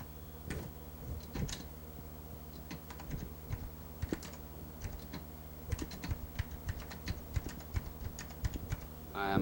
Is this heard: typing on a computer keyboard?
yes